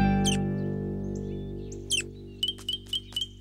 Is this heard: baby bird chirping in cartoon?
yes